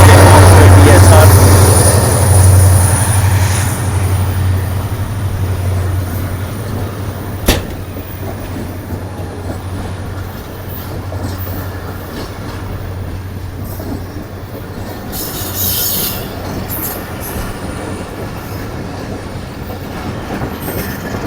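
Zikria Express passenger train led by Blue Tiger diesel locomotive 8208 rumbles past a station without stopping, loud low engine drone at first, then a steady clatter of wagons rolling by for a long stretch.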